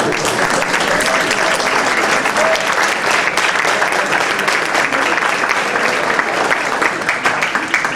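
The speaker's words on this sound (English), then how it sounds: "a big round of applause." Loud, dense applause from a large crowd at an Eid event, continuous and even throughout, with scattered voices mixed into the clapping.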